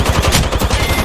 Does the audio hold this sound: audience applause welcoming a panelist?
no